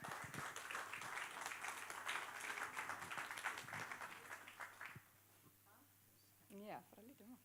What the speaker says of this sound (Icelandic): Já, gefum Karinni gott klapp.